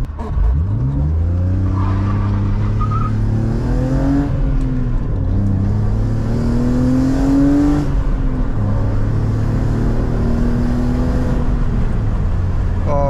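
A BMW E36 car drives on the road, its engine rising and falling through several revving pulls and gear changes, heard loud and close from inside the car.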